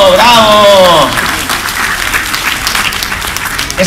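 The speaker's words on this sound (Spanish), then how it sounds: "¡Un aplauso! ¡Bravo!" Audience applause at a children's poetry reading at a book fair. A voice calls out over the start, then a loud, dense round of clapping continues on its own.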